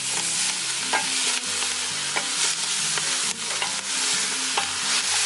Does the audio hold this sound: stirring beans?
yes